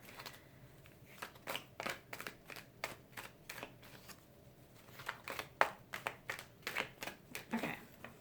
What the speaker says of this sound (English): I'm going to shuffle this 3 more times